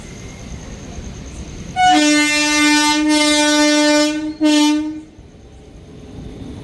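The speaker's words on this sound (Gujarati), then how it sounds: "તો ફ્રેન્ડ્સ ટ્રેન આવી ગઈ છે, ધીમી ધીમી ધીમી" A train pulling slowly into a station sounds a long, loud horn blast, then a brief break and a second shorter blast, over steady rumbling background noise.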